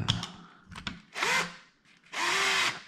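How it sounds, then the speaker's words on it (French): A screw is loosened on an Arrma Kraton EXB RC car, heard as close small ticks and taps from the tool followed by two longer grinding, rubbing turns of the driver. "je vais dévisser un peu parce que là, j'ai peut-être déformé un peu trop"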